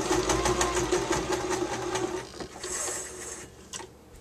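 A sewing machine stitching doll wig extensions runs fast with a steady rapid mechanical stitching rhythm, then slows and stops, with a few faint clicks after.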